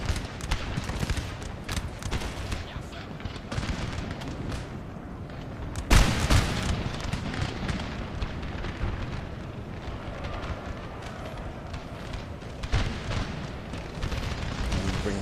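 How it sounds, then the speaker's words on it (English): Cannon artillery barrage in the Napoleon Total War video game: a dense, continuous rumble of distant booms and crackling gunfire, with a heavier blast standing out partway through. "let's continue the barrage on the cannon"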